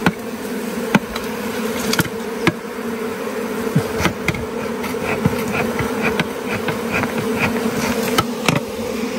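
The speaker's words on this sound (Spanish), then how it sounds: "Ustedes pueden escuchar el ruido," Honeybees swarming agitated inside a hive in a cave while honey is taken, a loud continuous buzzing drone with scattered sharp knocks and taps, no voices.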